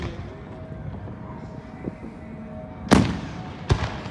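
Fourth of July fireworks bursting outdoors: a low rumbling background followed by two sharp, loud explosive cracks about a second apart, nearby and without speech.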